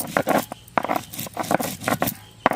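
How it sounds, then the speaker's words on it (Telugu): Spice masala for a village-style chicken dum biryani is pounded by hand on a grinding stone, making a steady series of dull, close thumps and scraping knocks about every half second. "ఇవన్నీ మనకి ఇక్కడ మిక్సీ లేదు కాబట్టి మంచిగా మనం దంచుకుందాం బండ మీద"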